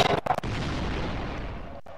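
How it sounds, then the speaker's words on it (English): A deep, heavy explosion sound effect, positioned to the left in Blender 3D audio, booms after a couple of sharp pops, then rumbles and fades out over a second or so. "You could hear the explosion and that it's coming from the left."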